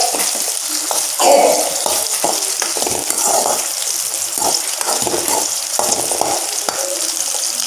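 Onions frying steadily in a pan for a thuthuvalai thuvaiyal, a loud continuous sizzle with occasional stirring scrapes and crackles throughout, no voices.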